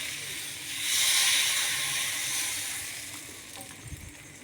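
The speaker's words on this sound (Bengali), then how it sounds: "এটার মধ্যে আমি এবারে জালি পরোটা এরমভাবে ঘুরিয়ে নেব" Jali paratha batter swirled onto a hot oiled griddle, a steady broad sizzle that swells loud early then slowly fades, close and with no talk.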